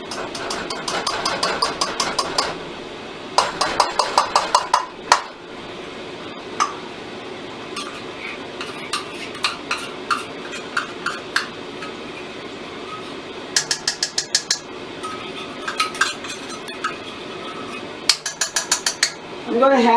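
Hard frozen pork lard scraped and packed into measuring cups, heard as close bursts of rattling, clicking scrapes separated by short quieter pauses.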